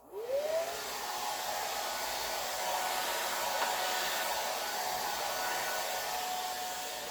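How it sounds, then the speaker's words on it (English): A hair dryer blows onto alcohol ink on Yupo paper, spinning up with a rising whine and then holding a steady, close, breathy roar with no voices. "If you take the heat and go like this with the dryer and stay on one spot"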